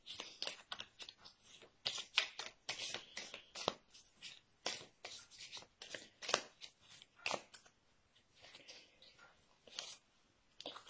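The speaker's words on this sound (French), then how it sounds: "c'est trop long quand je brasse les cartes" Tarot cards being shuffled by hand in a quiet room, a steady run of soft riffling and slapping bursts with short pauses between them.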